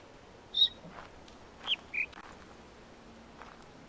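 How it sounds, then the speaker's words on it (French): A bird calling close by in a bamboo forest, three short clear whistled notes spaced apart against a quiet background hiss, with no talking. "L'oiseau il est à côté de nous."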